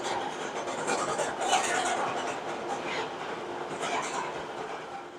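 A Riddler's Revenge roller coaster train at Six Flags Magic Mountain rushes past as a steady, loud rolling roar with clattering track noise, lasting several seconds without fading.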